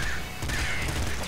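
Crow enemies cawing in the video game Nuclear Throne, harsh repeated caws over dense, loud game noise and gunfire-like clatter, with no speech.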